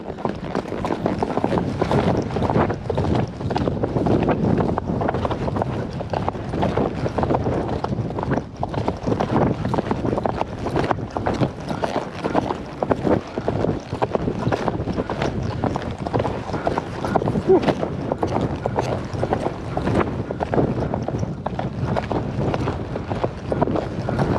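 A ridden draft horse lopes outdoors, its hooves pounding in a continuous rhythmic three-beat drumming, close and loud, with steady wind buffeting the microphone.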